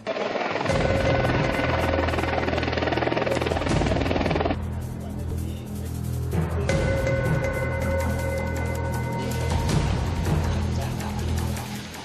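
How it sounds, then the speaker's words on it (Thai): An MV-22 Osprey tiltrotor aircraft during the Cobra Gold 2016 military exercise, a loud steady rotor drone with throbbing low tones and a whining high pitch, sustained throughout with a brief dip in intensity midway. "ด้วยอากาศยานแบบ MV 22หรือออสเปรย์"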